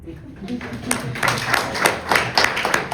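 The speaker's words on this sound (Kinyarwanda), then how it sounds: "reka muhe umwanya mukubitire amashyi" Scattered clapping from a concert audience builds into steady applause, fairly close, with some voices mixed in.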